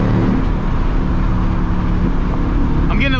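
A 2024 Ford Mustang engine drones steadily and loudly throughout as it accelerates through a tunnel, with a heavy low rumble that sounds enclosed and echoing.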